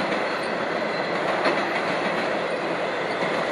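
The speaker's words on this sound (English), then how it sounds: "I got the night train rolling." A night train crossing Alabama near the Mississippi line rolls along the tracks with a steady, loud broadband roar and faint rhythmic clatter of wheels, with no voices.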